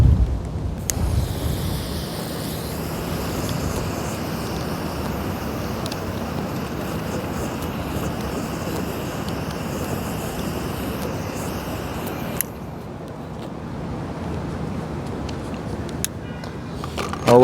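Steady gusty wind buffets the microphone outdoors, a constant broadband roar that dips briefly partway through, with no voices.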